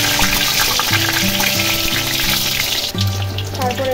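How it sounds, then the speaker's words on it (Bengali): Panch phoron spices sizzle in hot oil as a steady, loud frying hiss runs throughout, partly overlaid by tonal background music. "তেলটা গরম হয়ে গেছে, দিয়ে দেবো পাঁচফোড়ন।"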